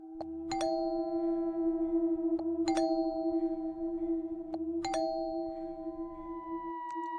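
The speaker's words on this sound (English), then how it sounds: "He then heard the doorbell ring a lot of times." In the horror video game Fears to Fathom, a doorbell chimes three times in quick succession with even gaps, over a steady electronic hum.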